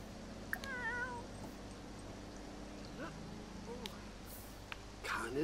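A cat in The Sims 4 meows a few times, with a wavering call early on and another near the end over low game background noise and occasional soft clicks.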